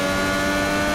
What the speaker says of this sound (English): I love the sound of these Indy cars.